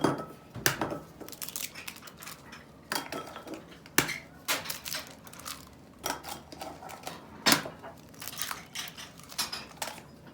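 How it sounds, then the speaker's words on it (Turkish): Eggs cracked into batter in a bowl, with several sharp clicks and taps of shell and utensils against dishware, fairly faint with no talking. "Şimdi yumurtasını kırıyoruz içine."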